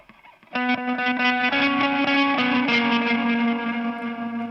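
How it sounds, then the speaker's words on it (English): Electric guitar through tremolo and an Eventide delay shimmer effect rings out in sustained, pulsing chords with a shimmering, echoing wash, loud and alone after a quiet start. "Most of the sound here was we got with the eventide delay, swell, shimmer effect."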